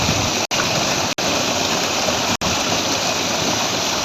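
Water pouring from a turbine pump into a small irrigation channel, a steady even rush and splash, close and continuous, interrupted by three brief dropouts.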